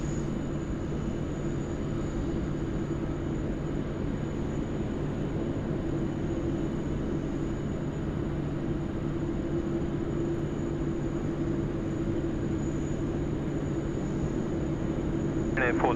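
A Korean Air airliner takes off from runway 16 right at Sydney Airport, producing a steady, loud, broadband jet roar with a constant droning hum throughout.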